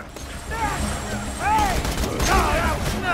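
An E-Tech energy gun from Borderlands 2 fires at bandits, throwing out warbling, sweeping zaps and bursts in quick succession over a busy combat din, with a voice talking throughout.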